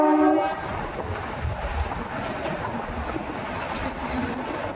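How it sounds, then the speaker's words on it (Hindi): A meter gauge passenger train, the 52076 Khambhli Ghat–Marwar Jn. service, rolls along steadily with a continuous low rumble and rattle of the coaches, and a brief horn blast at the very start. "तो अब ट्रेन बढ़ रही है इसके नेक्स्ट स्टॉपेज मारवाड़ राणावास की तरफ।"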